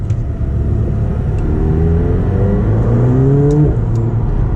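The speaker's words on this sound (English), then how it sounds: "Now you do hear a lot of turbo noise," Turbocharged engine of a McLaren 720S Spider heard from inside the cabin while driving, a steady loud rumble with rising whirring tones as it accelerates and faint high hisses.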